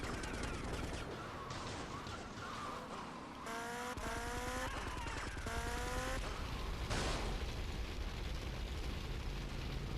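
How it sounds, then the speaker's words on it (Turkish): A car explodes in GTA Vice City amid busy game audio of engines and gunfire-like bursts, with sharp blasts and metallic crackling. "araba yandı patladı"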